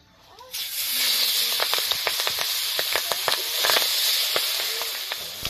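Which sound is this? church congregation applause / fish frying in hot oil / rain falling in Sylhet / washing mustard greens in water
fish frying in hot oil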